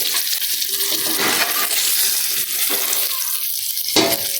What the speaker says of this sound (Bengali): ভাজা ভাজা হওয়ার পর আমি উঠে ফেলাম বেগুনটা